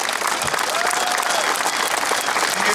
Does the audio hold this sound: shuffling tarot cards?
no